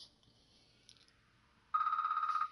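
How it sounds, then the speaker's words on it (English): A phone ringtone sounds indoors, a bright repeating electronic trill that starts suddenly after quiet and lasts under a second before cutting off. "So unbelievably sorry my phone interrupted that."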